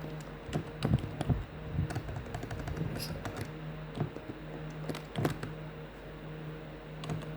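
JavaScript code being typed on a computer keyboard: irregular bursts of close, crisp key clicks with a few heavier thumps, like the space or enter bar, over a faint room hum.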